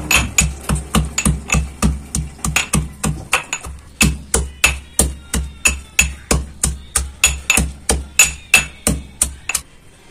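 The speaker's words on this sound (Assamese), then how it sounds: "এতিয়া মই আদা নহৰুখিনি যে থৈছিলো এতিয়া খুন্দনি এটা লৈ পেলাই এটা পিছি লম" A pestle pounds ginger and garlic in a mortar for a cauliflower paratha, producing a steady run of sharp, loud, evenly spaced thuds close by, with no voices.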